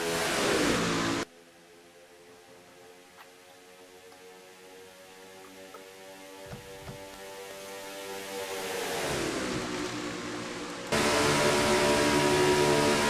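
Race cars in a Darlington stock car race in a racing video game, a steady engine drone that swells gradually as the field comes through the turns, framed by louder bursts of engine roar at the start and end.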